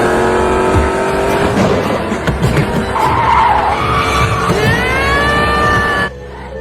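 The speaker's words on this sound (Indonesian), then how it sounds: "membuat mobil tersebut melaju dengan kecepatan penuh tanpa bisa dikendalikan" Loud tires squealing and skidding as a car races at full speed, engine roaring with rising whines, then cutting off abruptly near the end.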